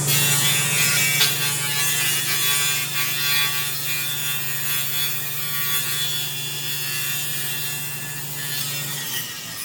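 A power saw rips a 1.5 inch strip lengthwise from a wooden fence picket, a steady close whining drone with a low hum underneath, running continuously with no talk.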